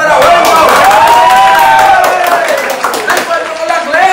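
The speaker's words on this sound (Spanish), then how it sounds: "Aplauso para Wellington" A crowd claps and cheers loudly and close by at a lively indoor gathering, with whoops and a voice shouting over the applause.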